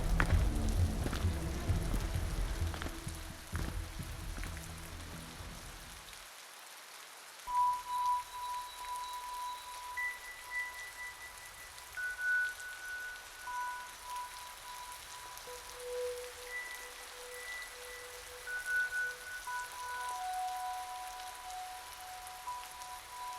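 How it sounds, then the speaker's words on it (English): Heavy rain pours in a dense, loud wash for the first six seconds, then drops away abruptly, leaving soft sustained musical tones that drift over a faint background. "The rain steadily poured down harder and harder"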